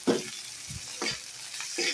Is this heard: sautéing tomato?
yes